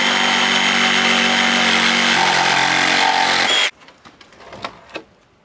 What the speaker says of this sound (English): I'm just gonna come in here with the reciprocating saw and cut them off of the posts